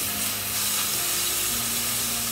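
Beef for tagliata searing in a hot pan, browned on the outside and kept rare inside, giving a steady, loud sizzle with a constant low hum running underneath and no speech.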